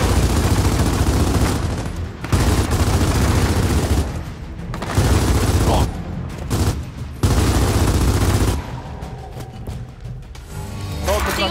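A fragmentation grenade in the Gears of War 4 video game amid heavy combat, with loud bursts of gunfire and booming blasts in repeated volleys broken by short lulls, some voices mixed in.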